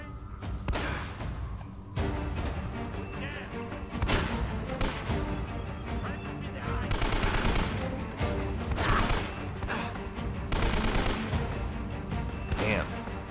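Heavy, booming gunshots from Uncharted, shotgun blasts among them, firing in frequent close, loud bursts over a steady din of battle throughout.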